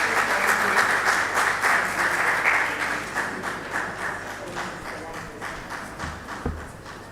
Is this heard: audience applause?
yes